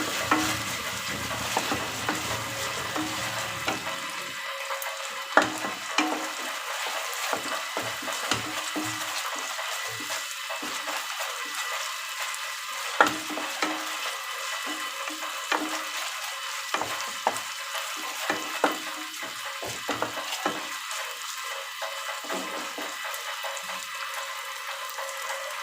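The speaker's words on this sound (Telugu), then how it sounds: "పచ్చివాసన పోయే వరకు మంచిగా ఫ్రై చేసుకోవాలి." Ginger garlic paste fries in a pan with oil, a continuous hissing sizzle broken by repeated scraping and stirring of a spatula, close and steady with no talking.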